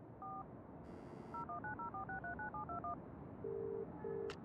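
Touch-tone telephone dialing in the video game Broken Sword: The Sleeping Dragon: a rapid run of short keypad beeps, followed by two longer ringback tones, over a faint steady background hum.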